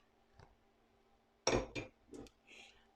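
A metal tablespoon clinks against a bowl or dish while cookie dough is prepared, a few short sharp clinks and taps in a quiet kitchen.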